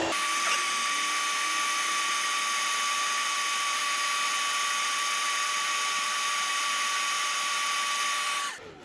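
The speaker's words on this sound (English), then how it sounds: "Take your blow dryer." A hair blow dryer runs steadily from start to finish, a close, constant whirring hiss with a high motor whine, then cuts off at the end. No one talks.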